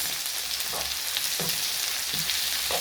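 Tomatoes sizzle in a hot pan for a noodle, cabbage and egg dish, a steady frying hiss broken by soft scraping stirs every second or so.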